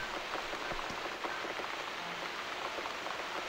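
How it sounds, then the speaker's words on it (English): Steady rain falls in the video game The Cat Lady, a dense, even hiss of drops striking a surface that runs continuously and fairly close throughout, with no voices. "Looks like we got the rain back."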